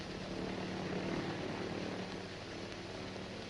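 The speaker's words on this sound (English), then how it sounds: "My men in the other planes are circling about." Several airplanes circle overhead, their propeller engines blending into a steady, dense drone that fills the air without a break, in an old 1930 film.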